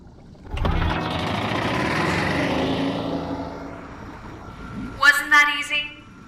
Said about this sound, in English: The engine is engaged